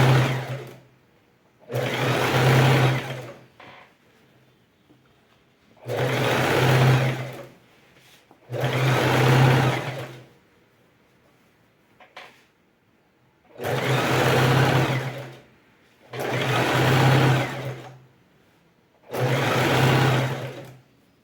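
Sewing machine stitching a patchwork rug made on a TNT nonwoven base, running in six loud bursts of about two seconds each with short quiet gaps between them and a low steady motor hum under each run.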